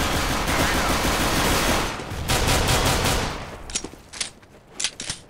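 Heavy automatic gunfire in CS:GO roars almost continuously for several seconds, then breaks into separate sharp, loud shots and short bursts near the end, with no talk over it.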